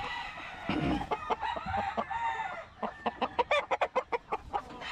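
A fighting rooster being readied for a cockfighting tournament crows loudly up close, then breaks into a quick run of rhythmic clucks and squawks, with no talking.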